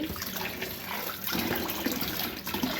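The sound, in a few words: washing okra under running tap water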